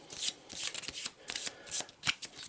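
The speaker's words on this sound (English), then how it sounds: "Let's give them a good shuffle." Close, quiet riffling of a deck of encounter cards for a tabletop game, several quick shuffling bursts in an uneven rhythm with brief pauses between them.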